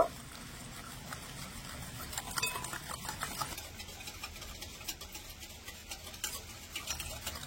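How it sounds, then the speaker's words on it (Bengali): Oil, sugar and yogurt being mixed together for a homemade cake batter, a steady soft scraping and stirring with faint irregular ticking clicks, close and quiet, with no talking. "এবারে এই তেল, চিনি আর টক দইটা একটু ভালো করে মিশিয়ে নেব"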